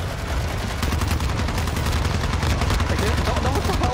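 Rapid automatic gunfire in a Warzone shooter match, loud sustained bursts of shots in a fast steady rhythm close up, with excited voices faintly mixed in.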